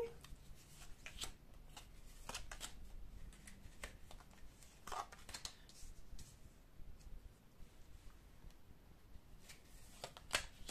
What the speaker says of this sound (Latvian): Tālāk, katrai mājai mēs izvilksim pa vienai kārtī.